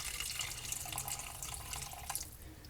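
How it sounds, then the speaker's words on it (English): Broth pours steadily into a pot of roasted vegetable soup, a continuous close splashing liquid stream with no talk. "Okay, so now we are going to add the broth."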